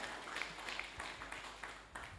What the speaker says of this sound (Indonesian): beri tepuk tangan untuk pembicara pertama kita